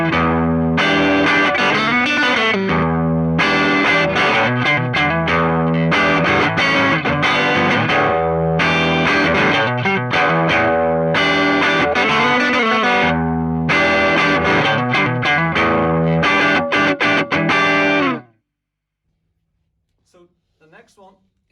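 Distorted electric guitar through an amp miked at 45 degrees to the speaker cone plays a steady riff for about eighteen seconds, loud and close with effects, then stops abruptly into near silence.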